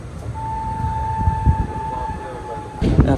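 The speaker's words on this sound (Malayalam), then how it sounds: "ഈ ഒരു ട്രാക്ക് സൗണ്ട് ശ്രദ്ധിച്ചോ?" Aboard the Palaruvi Express running from Thoothukudi to Palakkad through rain-flooded fields, a low rolling track rumble with heavy thumps of wheels over rail joints, under a faint steady whine.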